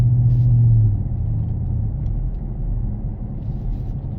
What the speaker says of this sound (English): It's using the engine to slow you down to save your brakes.